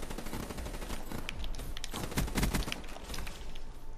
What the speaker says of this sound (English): Where am I getting shot at from, and why am I getting shot at from him?